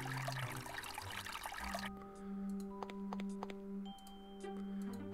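A faucet filling a glass jar in the Maniac Mansion Deluxe video game, a brief gush of running water that gives way to a quieter trickle with a few small tonal blips and clicks.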